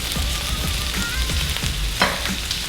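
Pork chops frying on their first side in a hot pan give off a steady, close hiss and crackle, with a short sharp clack of a utensil near the end.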